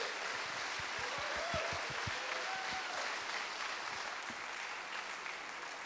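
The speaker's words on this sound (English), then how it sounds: "give him a really warm round of applause" An audience at a hackathon opening ceremony claps steadily in warm, sustained applause, a dense patter of many hands filling the room without pause.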